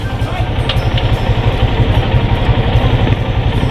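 A motorcycle engine idles nearby in shallow floodwater with a steady low, throbbing rumble that stays even throughout.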